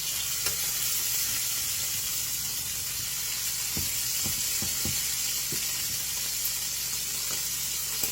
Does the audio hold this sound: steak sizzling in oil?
yes